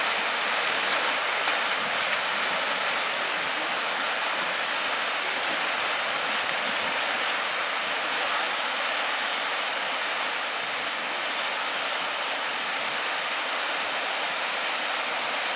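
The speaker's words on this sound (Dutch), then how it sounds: "Er gaat weer een ijsberg de zee in." Meltwater current carrying ice blocks and icebergs out to the sea at Jökulsárlón glacier lagoon in Iceland, a steady loud broadband rush of flowing water that continues without a break.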